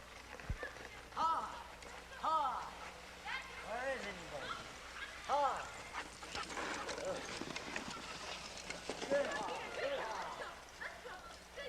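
Sled dogs in training on a Montana trail give repeated excited yelps and whines in short bursts, with a narrator's voice running over them and scuffling movement in between.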